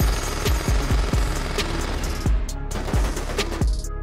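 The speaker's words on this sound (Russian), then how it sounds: "Хуёчит кувалдой по 30-метровому слою железобетона." A sledgehammer pounds reinforced concrete in a film scene, landing loud, heavy thuds in an uneven series of roughly eight blows over a constant background roar.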